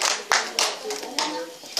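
Scattered hand claps from a small crowd at an encore during a performance at a rehabilitation care hospital, a few sharp bursts over about two seconds, with faint voices mixed in.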